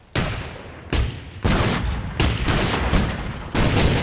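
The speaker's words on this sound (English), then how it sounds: "you could really feel the intensity of the cannons through the sound design" Five heavy cannon blasts in a Minecraft animation fire in irregular succession, each a loud broadband boom that rolls into a sustained rumbling roar, with no pause for silence between shots.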